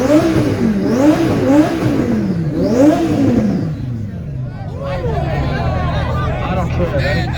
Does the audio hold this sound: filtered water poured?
no